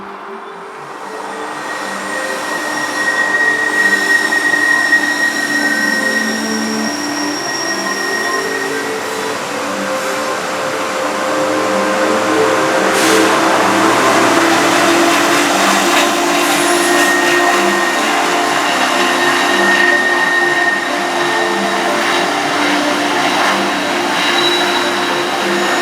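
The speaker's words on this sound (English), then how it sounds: "the train that had warranted that clear came around" A freight train with a single locomotive rolls past beneath a bridge, a loud, steady rumble and metallic rail noise that holds nearly constant throughout, with faint higher squeals and no talking.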